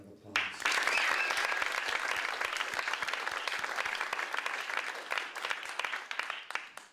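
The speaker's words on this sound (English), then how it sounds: "Let's all give them another round of applause." Sustained applause from a seated audience at a poetry slam finals event, dense steady clapping filling the room for several seconds before tapering off near the end.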